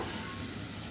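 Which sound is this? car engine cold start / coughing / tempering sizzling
tempering sizzling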